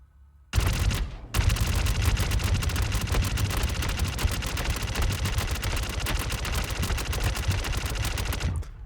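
A light machine gun in Star Citizen fires a long, sustained automatic burst of rapid, loud shots after a brief opening volley, continuing steadily almost without pause.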